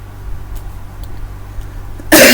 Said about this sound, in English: I got a little bit of a cough today.